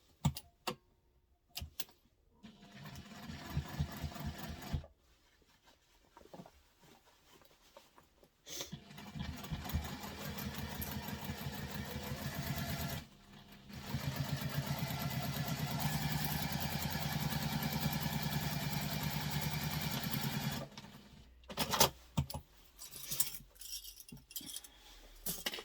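A sewing machine stitches a thick seam on a fabric wristlet, its motor running in several sustained bursts of steady mechanical whirring and ticking, with brief pauses between runs.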